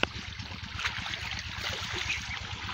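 Irrigation water gushing and gurgling into a crop field in a village, a steady continuous flow heard close up without talk.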